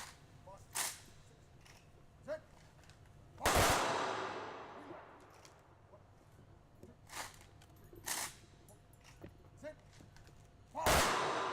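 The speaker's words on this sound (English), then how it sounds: "And to conclude, the 3-volley gun salute." Rifle volleys ring out in a three-volley gun salute at an outdoor Anzac Day commemoration: loud, sharp cracks with echoing tails, spaced several seconds apart, with fainter pops between.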